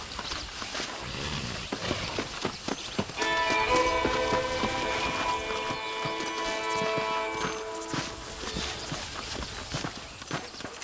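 Horse hooves clip-clop at a steady riding pace in the Red Dead Redemption video game, the beats close and rhythmic, with a sustained tonal music layer entering partway through and no talking.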